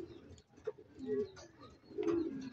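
Soft, low pigeon coos repeat a few times close by, in a quiet setting with light rustling between calls.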